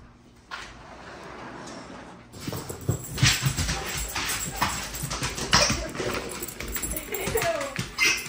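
A puppy whimpers and yips repeatedly at close range among other dogs, in short bursts over room noise, with people talking at times.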